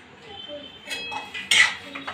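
Poha (flattened rice) with coriander being stirred in a cooking pan, giving a few brief scraping clinks of a spoon against metal, close and moderately loud, with a sharper clatter near the end.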